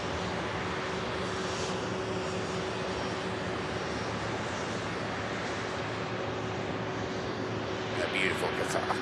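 A Qatar Airways Boeing 777 jet at Manchester Airport, its engines a steady, fairly distant roar with a faint whine. A louder rustle creeps in near the end.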